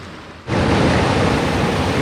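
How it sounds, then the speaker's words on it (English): A waterfall in the Sturgeon River Gorge of Michigan's Upper Peninsula, heard from a forest trail: a steady, full rushing roar of falling water that swells in abruptly after a quiet moment and then holds constant. "There's some falls down there you can hear."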